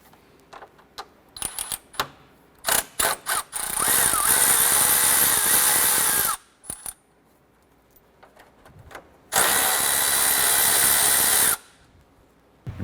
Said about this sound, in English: Remove these two 10mm bolts.